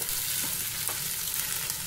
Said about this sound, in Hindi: अब इसमें डाल देंगे ये भिगोया हुआ काला चना 1 कटोरी और इसे 2-3 मिनट प्याज के साथ भून लेंगे।